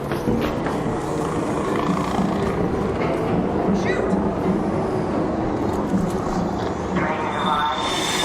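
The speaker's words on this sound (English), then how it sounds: "Train is arrived." A train pulls in within the Arc Raiders video game, a steady loud rumbling roar of wheels and machinery that holds through the clip, with a rising higher tone near the end as it arrives and people talking over it.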